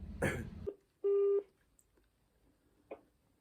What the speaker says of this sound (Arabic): نجيب التليفون ورن عليه ونشوف رد فعله